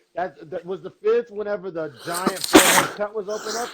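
A man gives one sharp, loud sneeze partway through, bursting out over a steady stretch of men's conversation that continues around it.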